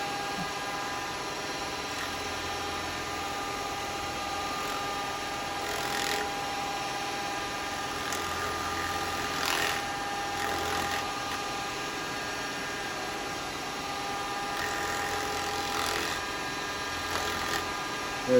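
A wood lathe turns a live-edge yew bowl, giving a steady, moderately loud mechanical whirr with faint rhythmic scraping from the workpiece, running on its own without talk for the whole stretch.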